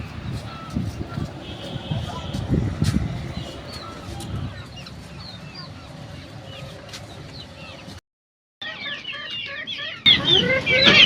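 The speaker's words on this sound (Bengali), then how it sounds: "আমার ভাবির মুরগিগুলা দেখাবো আজকে আপনাদেরকে" Several chickens on a small poultry farm cluck and chatter close by, with scattered higher calls, a short silent gap, then louder clucking toward the end.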